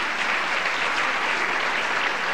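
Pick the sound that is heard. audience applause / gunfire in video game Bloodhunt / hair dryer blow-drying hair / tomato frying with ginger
audience applause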